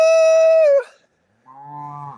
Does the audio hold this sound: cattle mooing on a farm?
yes